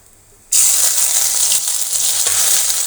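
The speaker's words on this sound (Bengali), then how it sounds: "আমার পাঁচফোড়নগুলো ভাজি হয়ে গেছে" Panch phoron spices with a bay leaf and ginger hit hot oil in a pan with a sudden loud sizzle that holds steady and close, rising in small bursts as the pan is stirred.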